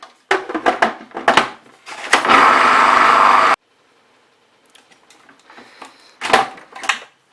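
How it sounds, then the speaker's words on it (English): Lemon hummus churning in a blender, a steady loud whirring run of about a second and a half between clattering knocks and handling sounds, followed by quieter scraping and a few sharp clunks. "blend maybe for another minute, because we want a really smooth hummus."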